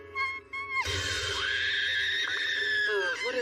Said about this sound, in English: I've heard this cat-like scream before.